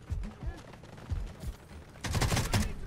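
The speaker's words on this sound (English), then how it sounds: "I don't know who's shooting me" Gunfire in the shooter Delta Force Hawk Ops, with an AKM rifle in play: scattered sharp shots, then a dense burst of rapid automatic fire near the end, close and loud.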